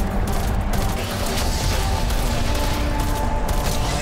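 Dense, continuous gunfire from a Call of Duty Zombies match, a steady loud rattle of shots filling the whole stretch with no pauses.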